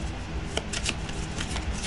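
Tarot cards riffle and flutter in quick bursts, a steady papery shuffling close by with a few sharper snaps.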